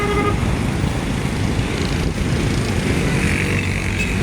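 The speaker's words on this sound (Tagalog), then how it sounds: "Maraming traffic oh." Steady roar of heavy road traffic in Manila during rush hour, engines and tires blending into a loud continuous wash with no talking.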